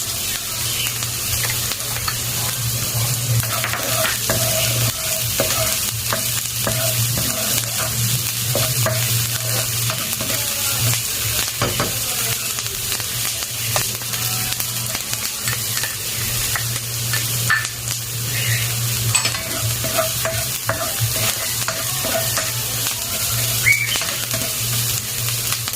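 Onions frying in a pan for ginataang malunggay with chicken liver and gizzard, a steady loud sizzle with occasional stirring scrapes running unbroken throughout, no voices.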